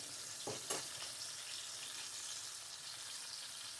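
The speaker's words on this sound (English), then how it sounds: "I always do when I'm frying things" Whiting fish sizzles and crackles steadily in a pan of oil, with a couple of soft clinks early on and no talking.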